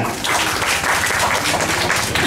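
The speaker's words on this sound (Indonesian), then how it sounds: "Tepuk tangan." An audience at a stand-up comedy show in a café claps loudly and steadily, a dense wash of many hands with no voices on top.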